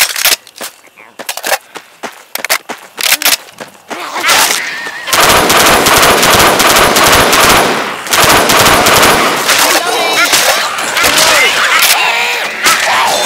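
Left 4 Dead 2 gunfire: scattered single shots give way to loud, sustained automatic bursts that roar continuously for several seconds, with brief pauses and voices shouting amid the shooting.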